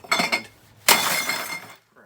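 A sledgehammer crushes glass bottles inside a plastic bucket: a couple of muffled knocks, then one loud crunching shatter with glass grinding and tinkling for nearly a second before it stops.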